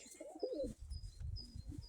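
A brown homing pigeon coos softly in a few low murmuring phrases, faint and close, with light chirps from other birds in the background.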